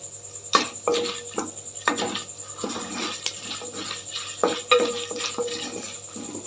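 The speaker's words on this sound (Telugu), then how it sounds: "ఇప్పుడు ఇంకొన్ని కొంచెం ధనియాలు వేసుకున్నాం కొద్దిగా వేగనిచ్చి" Coriander seeds and urad dal fry lightly in a pan, with soft scattered crackles and sizzling, intermittent stirring and utensil scrapes against the pan, and a steady background hum throughout.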